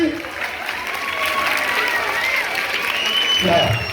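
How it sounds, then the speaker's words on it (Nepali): Applause and cheering from a crowd at a school annual sports meet for Green House after a ball-collecting coordination game, a steady broadband clatter of clapping lasting the whole stretch, with voices mixed in. "ग्रीन हाउसले जोरदार ताली"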